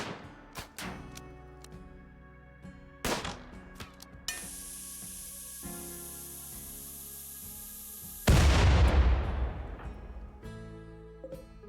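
Gunfire in the colony-sim game RimWorld: a few sharp, isolated shots ring out, then a long steady hiss and a sudden louder burst that fades, with no one talking.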